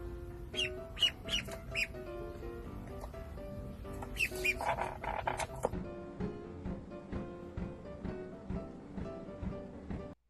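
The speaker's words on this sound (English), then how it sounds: "Nice try, grifter ducks." Ducks give several bursts of quacking and squawking with wing flapping in the first half, then a lower, steady background of calls and rustling continues.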